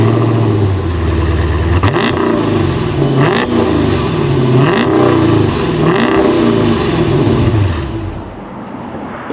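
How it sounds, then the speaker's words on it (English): A Dodge Challenger R/T Scat Pack Widebody's Hemi V8 exhaust rumbles loudly up close, blipped into several sharp revs roughly every second and a half before settling back to a deep idle. "coming on the rear bumper, got the exhaust, and they sure make a glorious sound."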